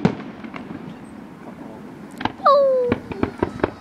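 Fireworks burst outdoors in a series of sharp pops and crackles, with one whistling rising shot and scattered bangs that follow in quick succession, while a person briefly exclaims.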